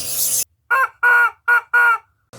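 Chicken clucking close by in four distinct bursts after a short stretch of broadband noise, each call loud and clear with no talking.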